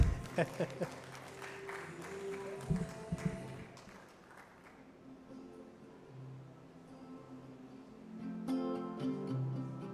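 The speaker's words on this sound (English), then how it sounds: "So let's clap for our sponsors." Applause from the audience at a data science chapter launch event in Uganda, with a burst of claps in the opening seconds that fades into a quieter background with voices and tonal sound.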